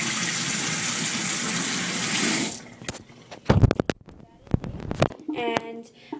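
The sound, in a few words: water running while rinsing a makeup brush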